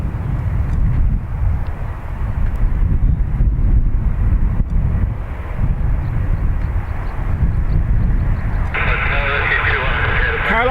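Airliner departing Dublin Airport roars as a broad, loud jet rumble under wind buffeting on the microphone, with a radio voice crackling in partway through.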